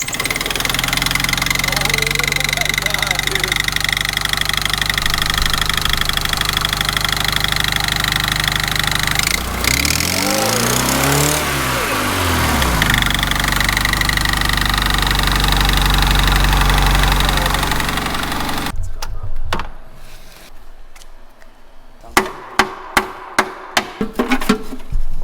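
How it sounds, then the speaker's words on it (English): A car engine with its oil pan removed idles loudly and steadily for about twenty seconds, then cuts out, followed by a run of sharp metallic knocks and clanks close by. "we're gonna pull the oil pan and see how she runs with that"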